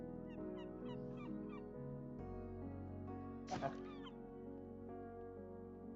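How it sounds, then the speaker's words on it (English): A bird in modded Minecraft calls a few times with short honking, quacking squawks, faint, over a sustained background music bed, with one louder burst partway through. "there's a bird here"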